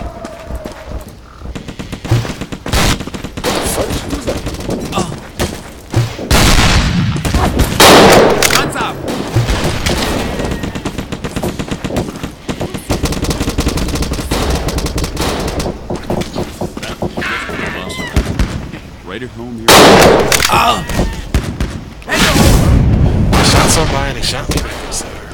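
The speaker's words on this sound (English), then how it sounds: "Why do I hear some bullets behind me?" Gunfire in the video game Dino D-Day: dense bursts of rifle and machine-gun shots and booming blasts, loud and close, with rapid rattling volleys that swell sharply at several points throughout.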